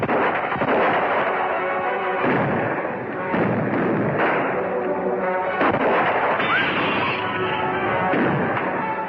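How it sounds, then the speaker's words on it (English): Dense volleys of gunshots fired overhead in a 1937 western crack out in rapid overlapping bursts, loud and close, with booming echoes and no pause through the stretch. "Shoot over our heads first."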